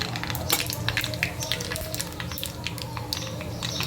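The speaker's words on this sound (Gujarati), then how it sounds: "જો અહીંયા રાઈ કતડવા માંડી છે સરસ મજાનો વઘાર થઈ ગયો છે" Mustard seeds splutter in hot oil as a tempering for dal, with cumin and fenugreek in the pan. Dense, continuous crackling and popping is heard up close with no talking.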